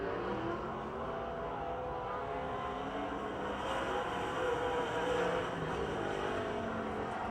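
A Lucas Oil late model dirt race car with a steel block 358 spec engine laps Pennsylvania Motor Speedway, its engine a steady distant roar that swells slightly as it comes around.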